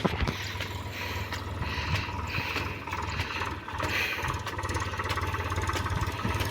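An Eicher truck's engine holds a steady, low idling rumble throughout, moderately close, with no talking.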